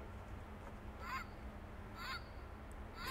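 Honking bird calls from an interactive exhibit station, three short honks spaced about a second apart over a steady background hum, moderately faint.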